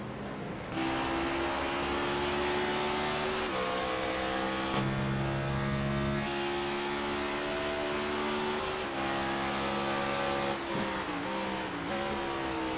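Several race cars in an iRacing Cup Series event at COTA, engines droning and shifting pitch as they run close together battling for position, a steady loud roar throughout with gear changes and no talk.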